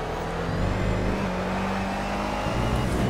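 A Subaru WRX driving along, a steady engine drone and road noise heard from inside or close by, continuous and moderately loud with slight shifts in pitch as it moves.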